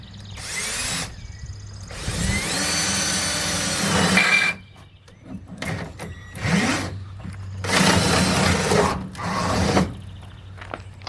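A power drill drives big bolts into the wooden transom of a jon boat, whirring in loud, sustained bursts of several seconds with shorter grinding spurts and pauses between them.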